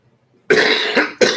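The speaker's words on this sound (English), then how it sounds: "I'm coughing because of all the damn cigarettes I smoked yesterday." A person coughs twice, loud and close, after a short silence. The first cough is a longer rasping bout and the second a sharper hack, with no talk around them.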